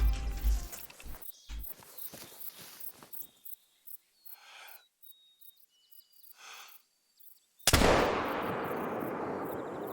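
A hunting rifle shot in the hunting video game Call of the Wild: one sudden loud blast with a long fading tail. It breaks a quiet outdoor scene of soft footsteps and faint insects, with no talk.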